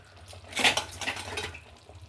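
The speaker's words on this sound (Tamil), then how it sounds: "மீனை போட்டுட்டு நம்ம பொறுமையாக கிண்டி விடணும்" A spoon stirs a Tamil jilabi fish curry in a pot just after the fish goes in. One clattering scrape against the metal is followed by softer, quieter stirring. No voices.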